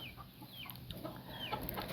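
Chickens cluck close by on a Thai farm, with scattered short calls repeating throughout the clip over light background noise.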